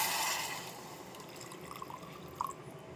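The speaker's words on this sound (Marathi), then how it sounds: "घालून टाकूया आपण नाचणीचं पाणी." Thin sprouted finger millet (ragi) water is poured into a cooking pot for soup, giving a soft brief splash followed by a few faint drips in a quiet room.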